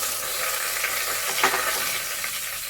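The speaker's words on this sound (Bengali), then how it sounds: "এবারে আমি দেব এর মধ্যে 1/2 চামচ মতো জিরে, আর দেব একটা তেজপাতা," Cumin seeds and a bay leaf sizzle in hot oil left from frying fish, a loud, steady crackling hiss with a brief spatter burst midway.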